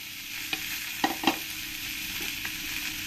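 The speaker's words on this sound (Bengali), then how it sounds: "খুব সামান্য তেলেই মাছটাকে ফ্রাই করে নেব।" Puti fish fry in a hot pan with very little oil, making a constant close sizzle broken by a few short knocks and scrapes of stirring. No voices are heard.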